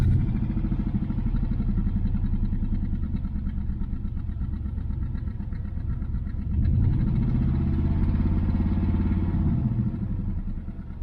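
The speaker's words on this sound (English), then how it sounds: "It doesn't sound like it's missing when you rev it up." A 1968 Chevelle Nomad engine runs near and loud with a rough, throbbing idle, then revs up in a swelling roar about midway and holds elevated before easing back.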